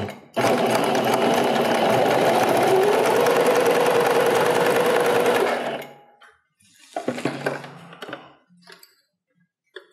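A sewing machine stitches Lycra fabric for high-waisted panties, running in one steady, close, loud whir for about six seconds before stopping, followed by a few quieter handling sounds.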